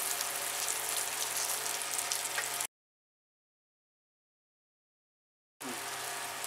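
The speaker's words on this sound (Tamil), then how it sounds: "மசாலாவுடைய பச்சை வாசம் போற அளவுக்கு நல்லா ஃப்ரை பண்ணுங்க" Tomato, onion, turmeric and kuzhambu masala frying in a pan for vatha kuzhambu give a steady, dense sizzle, close and fairly loud, which cuts out completely midway and then resumes.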